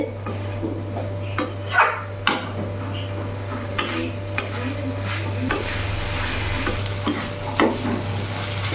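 Banana flower curry with fried peanuts frying and being stirred in a pan, a steady low sizzle broken by scattered scrapes and knocks of a spatula, with no talk over it.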